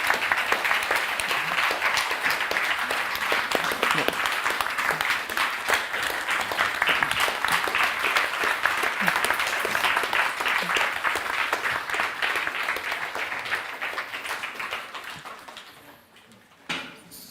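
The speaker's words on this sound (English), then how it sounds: "Please, a warm hand of applause for" A forum audience applauds two guests after a talk on journalism in wartime, steady sustained clapping from many hands for a long stretch before it fades and dies away near the end.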